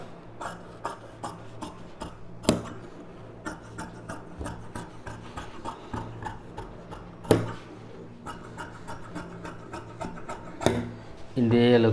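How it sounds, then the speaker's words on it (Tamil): Scissors cut through silk cotton blouse fabric and its lining folded to size for the back piece, a steady run of short, sharp snips and rustles up close, with a louder scraping burst at the end. "இந்த அளவு மடிச்சுட்டு நம்ம பேக் கட் பண்ணிக்கிறோம்"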